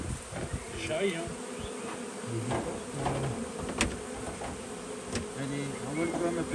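Honeybees buzz close around a newly installed hive in an apiary, a busy overlapping hum of wingbeats with darting individual bees, while a person speaks briefly.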